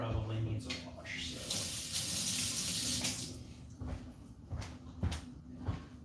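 Kitchen tap running into a sink as a slotted spoon is washed, a steady close rush of water swelling in the middle, with clinks and knocks of the utensil and brief low voice sounds.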